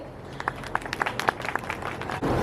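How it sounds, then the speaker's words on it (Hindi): Sparse claps at a factory anniversary celebration, individual hand claps rising in rhythm over a low room background before a brief louder burst at the end. "तो एक बार ज़ोरदार तालियां हो जाए"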